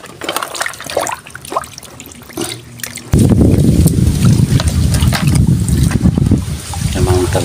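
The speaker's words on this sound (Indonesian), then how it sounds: "kita cuci dulu aja." Water splashing over a dirty brake part as it is washed, quieter trickles and a voice at first, then a sudden loud sustained gush of running water through the rest.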